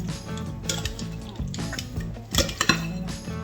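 Chicken skewer ingredients for garlic Parmesan skewers being mixed in a bowl, with rhythmic scraping and clinking of a utensil against the dish, louder knocks toward the end, close up and without talking.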